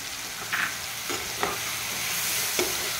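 Banana and jaggery stir-fry in a pan with a steady soft sizzle, punctuated by a few light scrapes and taps of a spatula, close up and with no one speaking.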